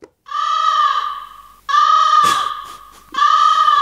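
A voice mimics a crow in three loud, harsh, drawn-out caws, each held about a second with short gaps between, performed alone for a crow-impression contest on a Korean radio show.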